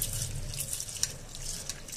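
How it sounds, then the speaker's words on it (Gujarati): Hot water runs and drips over lentils in a bowl as they are washed, a soft, continuous trickle with scattered drips and splashes, fairly faint, with no talking. "ગરમ પાણીથી દાળને ધોઈ"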